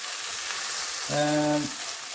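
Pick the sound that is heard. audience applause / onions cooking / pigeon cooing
onions cooking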